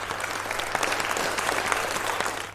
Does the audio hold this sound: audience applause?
yes